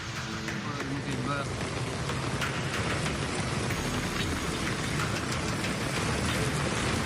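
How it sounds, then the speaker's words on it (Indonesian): Dense, steady heavy rain with strong wind roars without pause over a beachfront culinary area on the south coast of Bangkalan, East Java, close and loud, with a gusty rushing undertone throughout. "Angin kencang disertai hujan deras menerjang kawasan wisata kuliner di pantai selatan Bangkalan"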